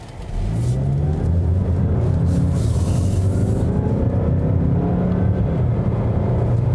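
A Mazda CX-5 accelerating hard, heard from inside the cabin as a loud, steady engine roar and road rumble that build and hold for several seconds.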